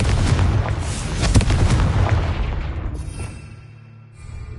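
A Confringo fire spell explodes in Hogwarts Legacy, a heavy booming blast with crackling burst that rolls and fades over several seconds, loud and close with no speech.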